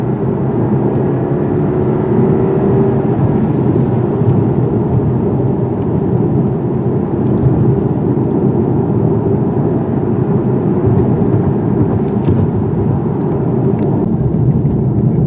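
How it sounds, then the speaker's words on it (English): A 2017 BMW 530i drives over rough ripple pavement on a county road, giving a steady, loud low rumble of tire and road noise that holds evenly throughout with no talking. "This ripple pavement really kills your suspension and tires."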